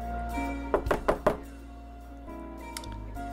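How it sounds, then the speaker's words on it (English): Four quick knocks on a door in the video game NORCO, in a fast rhythm, crisp and close, over a steady low electronic hum, followed by a faint click. "knocks on the door."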